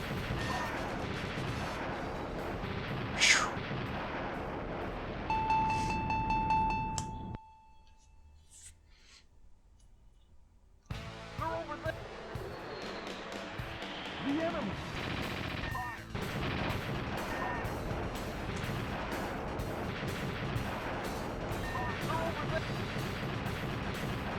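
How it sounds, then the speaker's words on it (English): Missiles and rapid gunfire from the arcade jet-combat game After Burner on the FM Towns Marty, a dense, continuous barrage of blasts and explosions with a brief near-silent lull midway before the intense action resumes. "these missiles coming from behind me are really annoying"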